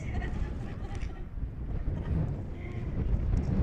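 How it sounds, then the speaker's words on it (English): A low, blustery rumble of wind pushes against the microphone, steady and close, with a faint voice buried beneath it. "It is a bit windy up here, isn't it"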